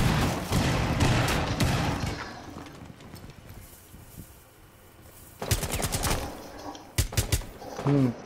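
Bursts of automatic gunfire from a Rainbow Six Siege match, rapid clattering volleys in short clusters, loud and close, separated by quieter gaps.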